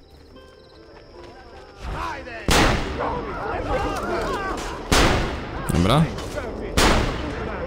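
Loud sharp gunshots in the video game Assassin's Creed: Revelations, several separate cracks fired from a rooftop, ringing out over ambient game sound while a player talks.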